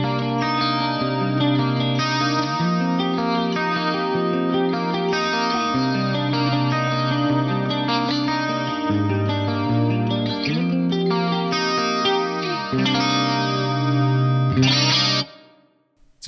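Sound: subtle flanger effect on guitar

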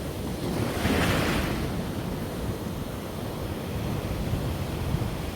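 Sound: strong sea waves pounding the shore after a storm

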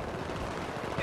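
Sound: rocket launcher fired in video game Battlefield 3

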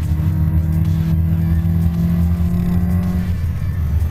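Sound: car accelerating on a road test

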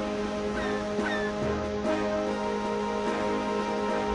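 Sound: seagulls calling in video game Zelda Phantom Hourglass

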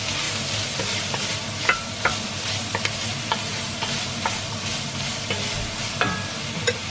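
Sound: onion sautéing in a pan for minestrone soup

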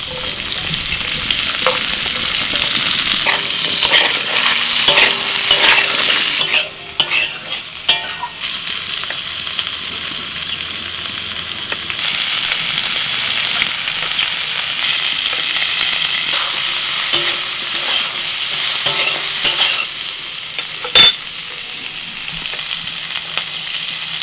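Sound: frying cauliflower, capsicum, carrot and beans

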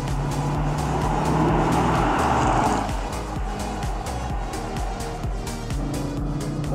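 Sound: retro sports car accelerating in sport mode

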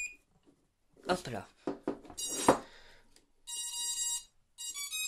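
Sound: quadcopter motors beeping as KK2.1.5 flight controller powers on

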